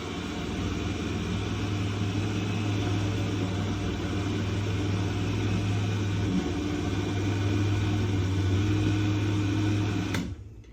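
An electric mixer purees cooked pumpkin, giving off a steady, continuous motor hum with a low drone that runs evenly for about ten seconds before cutting off abruptly near the end.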